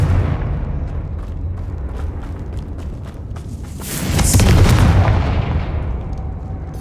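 A Confringo fire spell bursts in Hogwarts Legacy, a deep rumbling boom that swells midway over continuous low battle rumble, loud and close.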